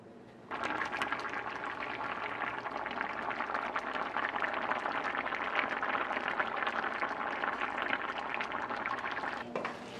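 Pigtail pelau simmering on low heat in a covered pot gives off a steady, soft bubbling and crackling hiss, continuous and even from start to end with no voices.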